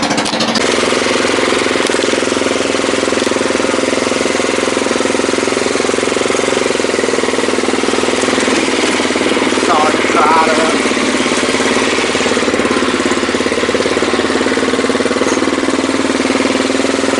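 A John Deere riding mower fitted with a custom clutch and holey pulley runs steadily, its engine droning loudly and continuously at close range throughout.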